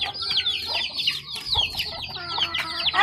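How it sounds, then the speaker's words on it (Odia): Native desi chickens clucking continuously at close range, with repeated short calls and overlapping hen chatter across the whole stretch, no talk. "ଏଇ ଆମର ଦେଶୀ କୁକୁଡ଼ା ଏଇଟା ଗଞ୍ଜା ଆମର"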